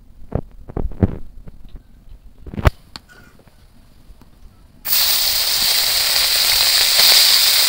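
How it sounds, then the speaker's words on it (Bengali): Fish sizzles in hot oil in a frying pan, starting with a few sharp clacks and taps and then breaking into a loud, steady, hissing fry that runs on to the end. "বাকি মাছগুলোও আমি ভেজে নেব।"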